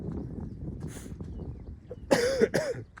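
Two sharp coughs come in quick succession near the end, close and fairly loud, after a stretch of quiet, muffled background noise.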